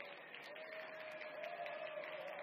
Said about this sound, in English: Let's start the show by giving a big round of applause